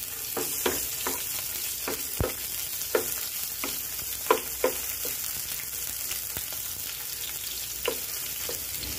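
Ginger hits a hot pan and sizzles steadily, with scattered sharp clicks and scrapes of a utensil at uneven intervals and no talking.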